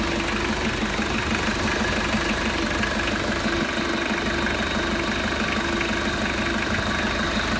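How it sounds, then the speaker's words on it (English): A Mitsubishi Shogun 2.8 TD diesel engine idling steadily, with a low knocking rumble and faint vibration, close and continuous, no talking. "Very low vibration from the engine."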